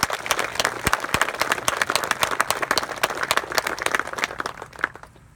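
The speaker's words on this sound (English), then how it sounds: "I would like to give Weyerhaeuser a round of applause for helping us." A crowd at a grant presentation with the Arkansas governor bursts into applause, sharp individual claps standing out within a dense, lively patter that carries on for several seconds before tapering off at the end.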